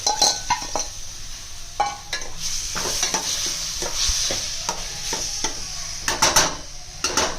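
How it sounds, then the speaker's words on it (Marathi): Vegetables for pav bhaji are stirred and sautéed in a hot pan with ginger-garlic paste, giving a continuous sizzle broken by repeated scraping and clinking of the spoon against the pan. "परतून घेऊया आणि ह्या भाज्या ऍड करून घेऊया"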